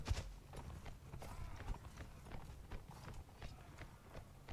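Horse hooves clop rapidly and steadily in a galloping rhythm in the Mount & Blade Warband video game, with a spoken voice over the top and occasional clashes in the background.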